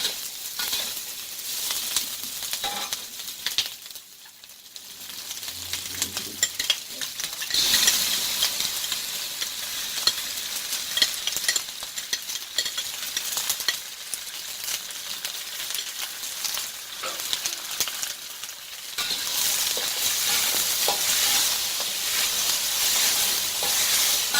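Sweet and sour chicken stir-fries in ketchup in a hot pan, with a continuous hissing sizzle and clattering stirring throughout, close up, growing louder and steadier toward the end.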